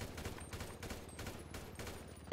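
An AK rifle fires in full-auto bursts on a modded GTA 5 PvP map, a quick, even run of sharp shots, fairly faint and heard on its own without talk.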